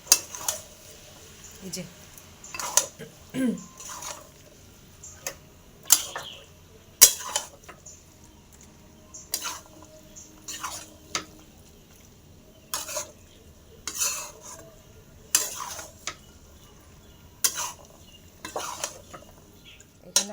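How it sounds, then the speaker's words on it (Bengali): Ghugni being stirred and cooked down in a pan, with repeated scraping strokes of a spatula against metal coming in irregular bursts, close up, with a few brief words spoken. "চলছে ঘুগনি কষানো"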